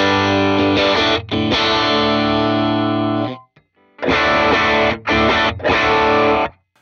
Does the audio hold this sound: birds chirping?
no